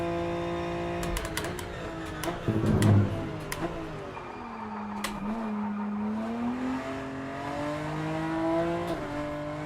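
A race car engine on a track in the RENNSPORT sim racing game whines loudly, its pitch climbing as the car slips, then sagging and rising again as grip returns, with brief clicks and bumps along the way.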